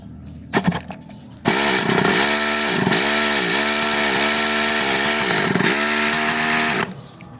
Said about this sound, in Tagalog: Medyo naririnig nyo na nag-fire yung engine.